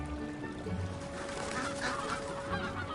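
Geese or similar migratory fowl honking near Heaven Lake, a volcanic lake ringed by thick primary forest, calling steadily at moderate distance over a constant outdoor background, with no voices.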